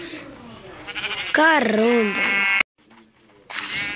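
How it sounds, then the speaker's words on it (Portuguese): Sheep bleat in a survival video game, one wavering bleat loud and close with a buzzing tone underneath and a shorter bleat after a brief silence, alongside a voice exclaiming. "Olha o estado dessas ovelhas."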